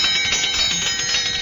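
In an old Nestlé Quik radio advertisement, a bright bell chime rings continuously. The jingle is loud, shimmering and sustained, heard alone with no voices.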